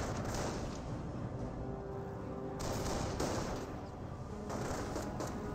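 Rifle fire in the video game Company of Heroes: a dense, continuous fusillade of overlapping gunshots that rattles on without pause, loud and busy throughout.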